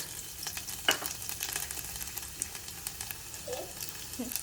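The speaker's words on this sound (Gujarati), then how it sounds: "મેં ઓઇલ મૂકી દીધું છે ઓલમોસ્ટ આવી ગયું છે તો એમાં આપણે નાખશું થોડુંક જીરું અને ગાર્લિક" Cumin and garlic sizzling in hot oil, a soft steady crackle and hiss with one sharp pop early on, faint and close.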